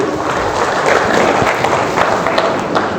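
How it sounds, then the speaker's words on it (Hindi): A seated audience at a motivational talk claps for themselves, a loud, close, sustained roar of many hands with a few sharper individual claps standing out. "प्लीज बैठिए और अपनी तालियां बजा करके बैठिएगा अपने लिए।"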